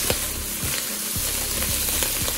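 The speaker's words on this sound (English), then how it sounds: "And we're going to stir this for like 2 to 3 minutes" Rice toasting in a pan for dirty rice, a steady close sizzle with the rhythmic scrape of a spoon stirring through the grains several times, no talking.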